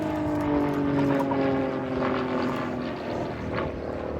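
A Grob Tutor propeller aircraft performs an aerobatic display at RAF Cosford, its engine droning steadily and loudly for the whole stretch, with a gently shifting pitch as it pulls through loops and turns.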